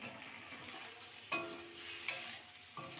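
Potatoes fry and get stirred in a pan for an egg dish, giving a steady broadband sizzle with a few sharp scrapes and clinks of the utensil against the pan; no talking.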